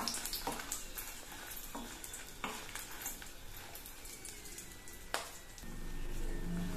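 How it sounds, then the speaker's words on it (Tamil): About fifteen dried red chillies fry in oil over a low flame, a soft, steady sizzle punctuated by several sharp clinks and scrapes of a spoon stirring against the pan, with no talking. "ஸ்டவ்வை ஸ்லோவாக வச்சுட்டு வறுத்தரலாங்க மிளகாவை"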